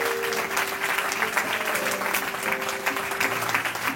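A church congregation applauds steadily and fairly loudly for about four seconds, with dense overlapping claps and a faint murmur of voices beneath.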